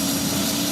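A tour helicopter flies over Catalina Island, producing a steady loud rotor and engine roar with a low throbbing drone that holds constant through the brief moment, with no speech.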